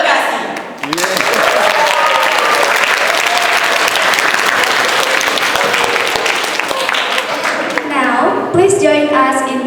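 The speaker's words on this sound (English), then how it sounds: "please join us in giving a warm round of applause" Warm, loud applause from a school audience at an English talk event rises quickly and holds steady for several seconds before fading, with voices over the end.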